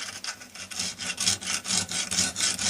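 A lawnmower blade edge being hand-sharpened with a file, a series of about a dozen rhythmic rasping strokes, close and loud with no talk.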